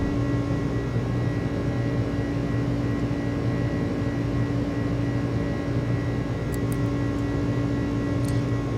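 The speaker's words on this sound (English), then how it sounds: "There's our climb thrust coming in" Simulated iniBuilds A300-600 airliner engines spooling up to climb thrust in flight, a steady loud jet drone with a droning low hum and whirring tones held throughout, with a few brief faint high clicks near the end.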